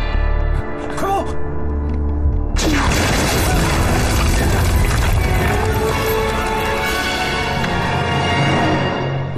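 A loud explosion erupts in a Chinese war drama, a sudden blast at about two and a half seconds followed by a dense, roaring crash and debris rumble, after brief shouting.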